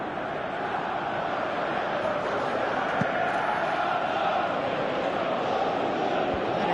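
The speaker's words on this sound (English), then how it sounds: "you can feel and hear how the crowd are reacting to all of this" A football stadium crowd roars during a UEFA quarter-final against Chelsea. The broad, even wash of noise holds at a constant loud level throughout.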